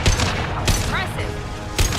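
Bursts of gunfire from the video game Mass Effect 2 crack out in loud, close volleys at the start, middle and end, mixed with game sound effects and a voice.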